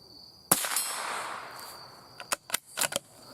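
.22 LR Remington target rifle fired outdoors at a big round steel target: one sharp shot with a ringing metallic ping that decays, then several quicker, fainter clanks as the steel keeps ringing.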